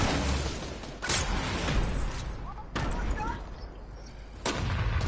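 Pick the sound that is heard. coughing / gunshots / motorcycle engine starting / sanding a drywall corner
gunshots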